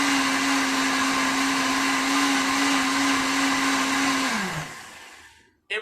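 A Silver Crest blender runs steadily while blending a smoothie, a loud constant motor whine that holds its pitch, then winds down and stops near the end, leaving a brief clunk.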